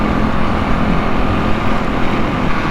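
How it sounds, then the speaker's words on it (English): A Kawasaki KLE500 motorcycle with modifications, fresh Mitas E07+ tyres and a Stage 3 setup drones steadily on a road test ride, engine and wind noise loud and constant throughout without speech. "just out road testing the KLE after I've done those modifications"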